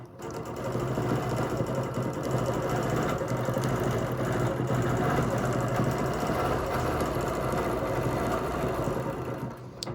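A sewing machine stitches a row at a steady running speed, giving a continuous, close, even mechanical whirr with a rapid rhythmic stitching beat that holds for nearly the whole stretch before stopping at the end.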